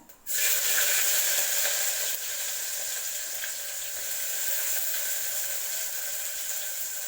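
Onions dropped into a hot pan on a gas stove turned to low for a Tamil vadacurry kurma, bursting into a loud, steady sizzle and hiss that starts abruptly and holds evenly to the end.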